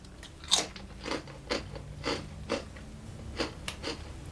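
Close, crisp crunches repeat every half second or so as crunchy ghost pepper cheese chips are bitten and chewed, with no talking.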